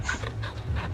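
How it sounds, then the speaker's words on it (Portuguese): A dog panting in the video game Final Fantasy XVI, quick rhythmic breaths heard close and clear for about a second, with no talk over it. "Não posso esquecer de fazer carinho no cachorro."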